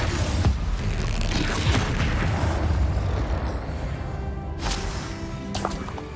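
Spell explosions from the Hogwarts Legacy video game, with steady booming blasts and rumbling bursts through the first half, then sharper bright crackling impacts later, loud and dense throughout.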